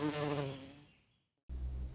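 Honeybee buzzing on a farm, a steady insect drone that fades to silence midway, then returns loud and close.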